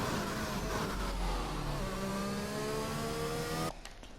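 Formula 1 car engine in the F1 2021 racing game at the Great Britain circuit, a loud continuous high-revving whine with pitch steps as gears change, cutting off abruptly near the end.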